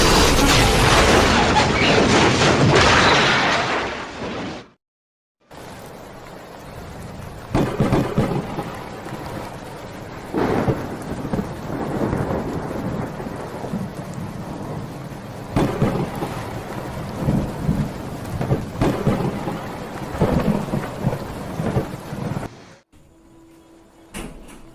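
A heavy thunderstorm roars with dense steady rain and repeated rolling thunder rumbles, loud and continuous, broken by a brief silent gap near the start before the downpour resumes and carries on until a sudden stop.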